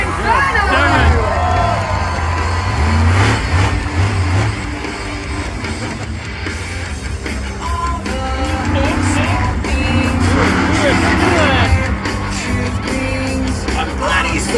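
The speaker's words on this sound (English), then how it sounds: "Brisbane, get loud for Inferno!" A loud crowd at a monster truck show in Brisbane cheers and whoops for the Inferno truck, mixed with hubbub, an announcer's voice and occasional bangs, sustained throughout.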